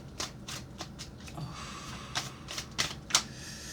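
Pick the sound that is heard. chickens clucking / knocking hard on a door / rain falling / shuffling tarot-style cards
shuffling tarot-style cards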